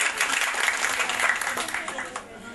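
Audience applause at a Dew Cosmetics stage event, a steady dense wash of clapping lasting the whole stretch at moderate loudness, with some crowd voices mixed underneath.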